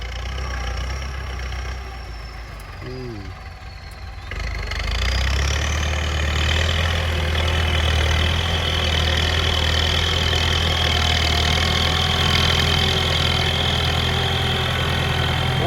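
A New Holland 6640 tractor's diesel engine runs with a steady low rumble, quieter at first and then louder and fuller from about five seconds on, continuing without a break.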